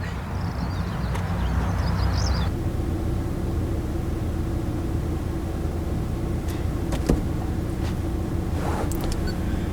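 A 2015 Honda Civic engine idles steadily, a constant low rumbling hum with a few faint clicks on top and no talking.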